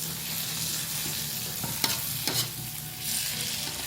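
Tomatoes cooking in sambal tempe with anchovies, a steady close frying sizzle with a few brief spatula scrapes near the middle.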